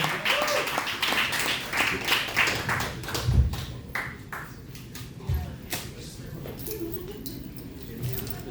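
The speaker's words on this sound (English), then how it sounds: "Clap for JP one more time, let him hear it" A crowd claps for a performer after a set at the Copper Rocket, scattered hands over murmuring room noise, loud at first and then tapering off into lighter, uneven clapping.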